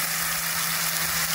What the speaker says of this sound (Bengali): এবার আমি উপর থেকে টমেটো পিউরিটা ঢেলে নিলাম।